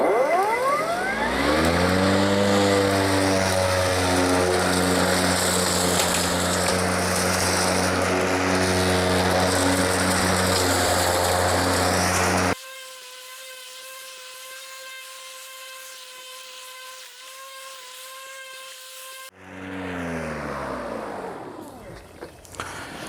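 An EGO Power+ cordless electric lawn mower runs loudly with a steady motor whine that cuts out abruptly partway through, leaving a quieter tonal hum before a brief whir returns.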